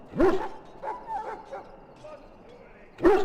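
An ailing dog in the video game Dragon Age: Origins lets out sharp yips and a bark at the start, soft whimpers in between and another yelping burst at the end, close and clear.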